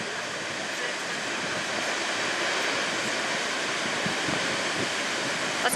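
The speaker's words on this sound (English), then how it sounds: "Watch this wave crash. Oh my god, it's huge." Large ocean swells crash onto the shore on a cold, rainy stretch of the Great Ocean Road coast, a loud, continuous roar of surf and spray that holds steady throughout, with no talk.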